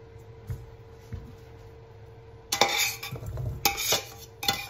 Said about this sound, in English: Our potatoes are all drained up. And I'm going to transfer them to a bowl.